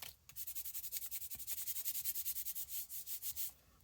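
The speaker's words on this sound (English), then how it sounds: "And then I just honestly just rubbed it down." A paper seed packet is rubbed down onto a paper surface by hand in rapid, even back-and-forth strokes, about thirty close, dry swishes in a row.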